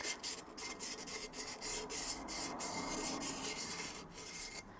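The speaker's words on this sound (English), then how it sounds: "you can just use an emery board and just give it a light sand" An emery board lightly sands the edges of a resin piece, a quiet rhythmic rasping of short back-and-forth strokes, close and alone.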